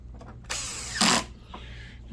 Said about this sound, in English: Put these back screws in.